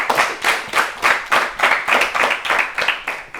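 A studio audience at an Ethiopian children's TV quiz show claws out a brisk, even rhythm of loud claps for two contestants, about three claps a second, close and steady with no talk.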